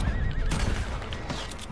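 A horse in Red Dead Redemption 2 gameplay whinnies loudly after being shot, a short shrill neigh over dense gunfire and noisy outdoor game ambience.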